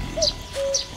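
Birds chirp in The Night of the Rabbit, two short clear calls with whistled tones, close and distinct over quiet game ambience, with no talk.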